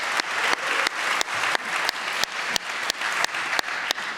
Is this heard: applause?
yes